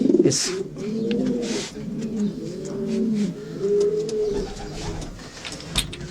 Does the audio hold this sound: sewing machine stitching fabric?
no